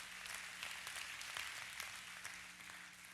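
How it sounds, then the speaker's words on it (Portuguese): Church congregation applauds during a sermon, a sustained rain of many clapping hands with a few sharper individual claps standing out, over a faint low hum, tapering slightly toward the end. "Aplaude e agradeça a Deus."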